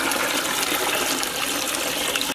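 Tamarind water strained and poured out for a pond jalebi fish curry, a steady, close, full-bodied rush of liquid that runs without pause and stops abruptly at the end.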